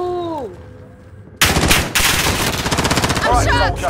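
Gunfire in the video game Call of Duty Modern Warfare: after a quiet lull with a falling electronic tone, a sudden loud rapid automatic burst erupts and keeps rattling close by, with a brief voice near the end.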